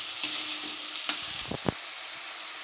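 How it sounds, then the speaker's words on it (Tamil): Onions sautéing in a pan for butter potato chicken gravy give a steady close sizzle, with a few quick spoon scrapes and knocks against the pan in the middle. "இப்போ வெங்காயம் நல்லா செவந்து வதங்கட்டும்."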